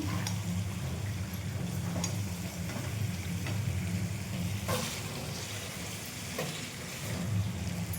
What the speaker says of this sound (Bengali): আর মাংসটা এবার জল দিয়ে দিই, মাংস কষানো হয়ে গেছে।